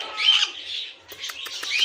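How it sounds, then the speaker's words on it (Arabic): A sun conure parrot calls with shrill, raspy screeches, two sustained squawks followed by a burst of short choppy chirps, loud and close with no talking. "ببغاء الشمس، ببغاء السن كنيور"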